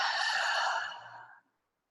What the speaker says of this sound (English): Let's take a slow inhale breath in and slowly exhaling.